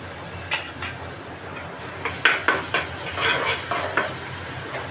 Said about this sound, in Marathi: हे जरासा असा मसाला हा परतून घेऊया